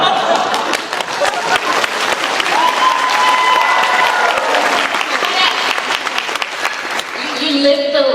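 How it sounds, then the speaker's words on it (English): Audience at an Otakon 2024 Final Fantasy XVI convention panel breaks into loud, sustained applause with some cheering, filling the hall steadily before a voice picks up again near the end. "Anyone giving you applause when you do anything?"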